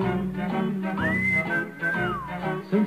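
Melodic whistling in a Romanian song, a clear rising then sliding tune carried over the sung and accompanied music at fairly close, prominent level.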